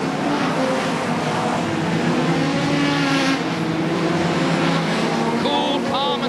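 Race cars in a world final speedway race roar past continuously, a loud, sustained engine drone with rising and falling pitch as the field circles, while a commentator talks over it.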